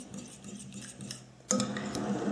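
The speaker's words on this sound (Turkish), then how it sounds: "Artık sütü de ilave edelim. Güzelce karıştıralım." Milk being stirred into a yogurt and flour soup mixture in a pot, a spoon or whisk scraping and clinking softly against the pot, with the scraping growing busier and louder partway through.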